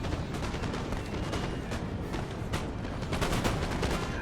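Massed musket volleys from a Napoleon: Total War online battle form a dense, continuous crackle of gunfire with overlapping shots and booming bursts, loud throughout with no talk.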